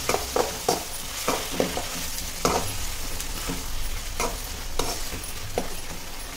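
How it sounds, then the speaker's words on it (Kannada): Mint rice paste (pudina gojju) sizzles steadily in a pan with little water, broken by a string of sharp scraping stirs that land every half second or so, loud and close, with no talking. "ಸ್ವಲ್ಪ ಒಂದು 2 ಮಿನಿಟ್ಸ್ ಫ್ರೈ ಆಗಲಿ."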